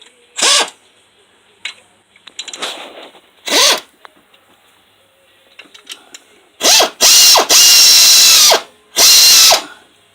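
An air ratchet tightening the bottom alternator mounting bolt: several short, loud bursts of rapid mechanical clicking and whirring, with quieter tool handling between them and a longer stretch of bursts toward the end.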